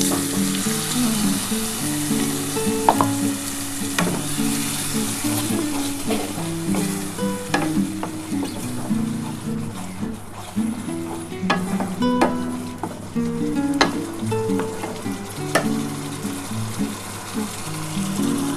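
Spiced water is poured into hot oil for a rohu fish kalia, and the pan gives a loud, continuous sizzle and bubbling frying sound close by, broken by irregular stirring clatter.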